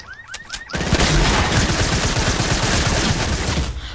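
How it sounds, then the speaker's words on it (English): An impulse grenade goes off in Fortnite, a short whistling rise followed by a loud, dense burst of crackling gunfire and blasts that holds steady for several seconds. "I threw an impulse nade."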